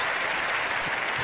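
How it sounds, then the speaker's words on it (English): A brief, steady round of applause fills the whole moment evenly at close range, with no voices over it. "I'm going to give them a round of applause anyway."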